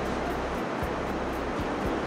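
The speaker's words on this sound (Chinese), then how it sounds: "沙沙的海浪声是不是很好听啊" Sea waves wash in a continuous rustling hiss, steady and fairly close, with soft swells rising and falling and no voices.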